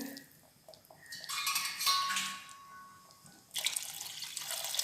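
Water splashes and pours into a metal pot in two bursts, a brief lull between them, with light clinks of cookware nearby.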